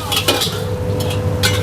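Fried rice stir-fried in a wok with spring onion, garlic, egg and seafood, heard as a continuous close sizzle broken by repeated scraping and clinking strokes of a metal spatula.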